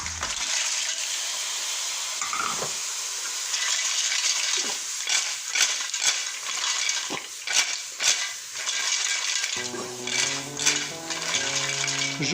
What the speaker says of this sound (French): Je peux envoyer mes moules.